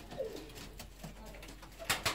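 Fancy ornamental pigeons in an aviary of numbered nesting boxes, giving a few soft, low coos near the start, with a couple of louder brief flutters or bird sounds toward the end.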